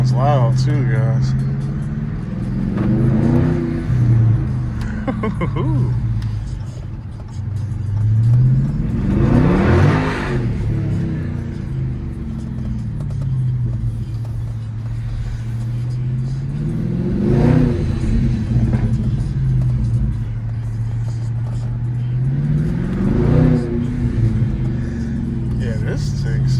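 Dodge Charger 392 Scat Pack V8 revving in repeated loud bursts with a rumbling exhaust and small crackles, each rev swelling and falling back to a steady idle, with someone talking over it.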